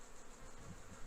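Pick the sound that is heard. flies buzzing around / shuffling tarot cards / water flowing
flies buzzing around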